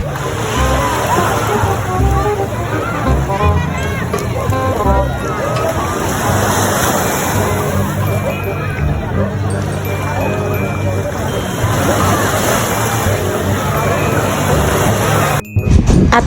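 Salty sea water sloshes and splashes close by as someone plays with it by hand along a coast near Maragondon, a continuous watery churn heard beneath people talking.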